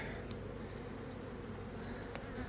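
Honey bees buzz around freshly made hive splits in an apiary, a dense, continuous droning swarm hum close by with a few individual bees zipping past.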